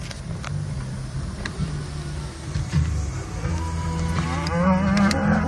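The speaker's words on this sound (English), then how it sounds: "Come on, cows." Cows and a calf moo around a vehicle on a road, with low drawn-out calls rising over a steady engine rumble, fairly close, with no talk.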